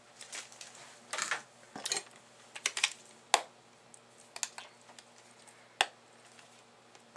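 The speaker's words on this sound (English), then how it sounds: "you are going to hit the button card, and then you'll hit key number 5" Key presses on a Cricut Gypsy handheld device come as irregular light clicks and taps, close by, with short pauses between them and no voices.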